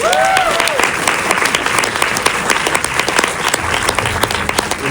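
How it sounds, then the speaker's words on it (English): An audience at a film Q&A for the movie Blitz bursts into loud, dense applause that continues steadily throughout, with a brief voice heard at the very start. "Let's have a huge round of applause, please, for Blitz."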